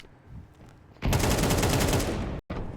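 Rapid automatic gunfire in a Counter-Strike match, a dense loud burst of rattling shots cutting in after a quieter second and holding steady, with a brief gap before firing resumes; no voices.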